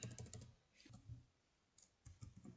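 Quiet typing on a computer keyboard as a website name is entered into a browser address bar, short bursts of clicking keystrokes separated by brief pauses.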